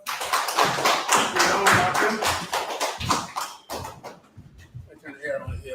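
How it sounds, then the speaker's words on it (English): Audience clapping at a gathering, a dense burst of sharp hand claps that tapers into scattered, thinner claps toward the end, with voices mixed in. "Clap it up."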